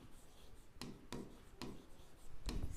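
Chalk or marker writing on a classroom board, a series of short scratchy strokes with brief pauses between them, close and fairly quiet.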